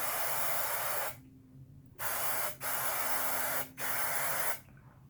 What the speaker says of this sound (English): some hairspray is a must for an 80s look